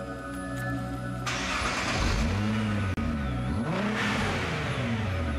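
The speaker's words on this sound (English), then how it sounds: "the engine is ferried across to the dyno room, where it started for the very first time" A Nissan GT-R engine starts for the first time in a dyno room: a whirring crank, then it catches and revs loudly in several rising and falling swells, close and alone.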